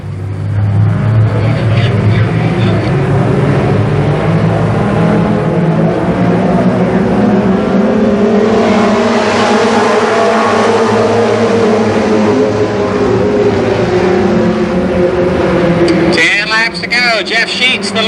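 Race cars roar around the Columbus Motor Speedway at an October 1990 main event, with loud, sustained engine noise rising and falling as they pass and an announcer talking over the din.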